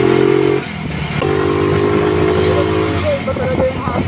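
Kymco Dink scooter fitted with a Honda GY6 carburetor accelerating, its engine note rising in a steady drone with a brief dip and then climbing again, close and loud throughout.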